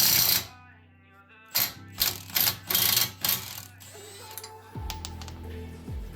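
A drive axle nut on a Subaru WRX is worked loose with a 1.25-inch socket during a clutch overhaul, heard as several short, loud rattling bursts of metallic hammering separated by pauses, followed by quieter clinks and a low hum.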